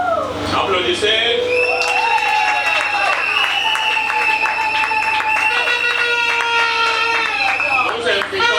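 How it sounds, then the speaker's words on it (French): Applause in a church wedding ceremony as the groom signs the register, clapping and crowd noise under prominent sustained tonal sound, steady and fairly loud throughout. "Applaudissez."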